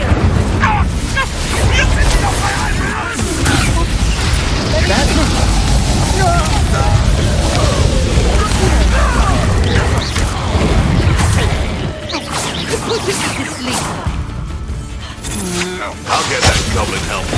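The Incendio fire spell in Hogwarts Legacy, loud fiery blasts and crashing impacts amid chaotic combat noise, thick and sustained with brief lulls near the end.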